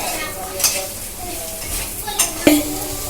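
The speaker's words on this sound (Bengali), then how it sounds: "ওই জন্য আমি কষার সময় এইভাবে মিশিয়ে দিই ভালো করে" Potato filling for samosas is stirred and mashed in a pan while sautéing, with scraping utensil strokes and a few sharp clinks against the pan over a low sizzle.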